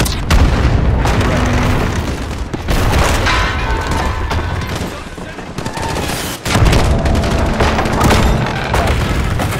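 Missile strike in Call of Duty Modern Warfare: loud, close booming explosions hit in several heavy bursts, with crackling gunfire and debris between them, over a dense battle din.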